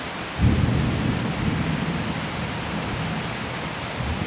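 Steady broadband rain falls around a house near a canal in the Thai countryside, with a deep thunder rumble rolling in early and lingering beneath the continuous downpour; no voices.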